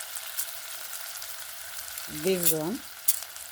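Matoke (cooking bananas) stirred in a pot in an African village on a rainy evening: a steady close hiss of sizzling and scraping, with a brief tonal, voice-like rising sound midway.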